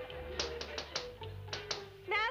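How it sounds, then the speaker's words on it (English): Sharp knocks on a door, about half a dozen distinct raps in an uneven rhythm, heard at moderate loudness over a low room hum, with a brief higher sound at the end. "I thought I heard somebody knocking."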